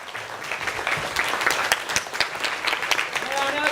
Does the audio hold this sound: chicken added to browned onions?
no